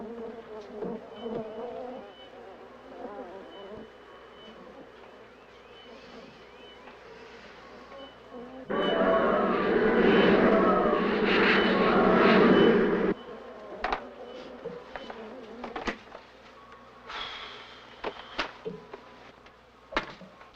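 A swarm of bees buzzes in a 1978 film, a steady insect drone that swells loud and dense for several seconds in the middle, with quieter buzzing and scattered clicks before and after.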